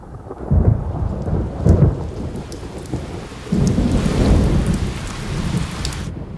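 Heavy rain beats steadily outside a window as thunder rumbles loudly in two rolling waves during a storm on the night of Diwali, with no voices.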